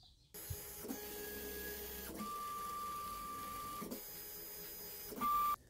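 Big home-built floor-standing 3D printer on a 2020 aluminium extrusion frame, running steadily with a continuous mechanical whir and shifting stepper-motor whines in sustained tones, close and alone, with a brief louder burst near the end.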